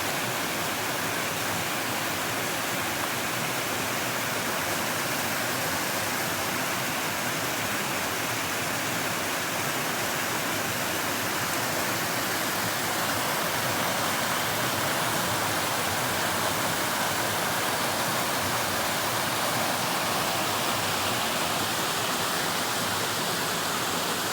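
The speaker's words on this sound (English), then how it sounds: "We even have a small waterfall right there." A small waterfall swollen by hurricane rain on Mt Moosilauke roars in a dense, continuous rush of falling water, loud and unbroken throughout, with no voices over it.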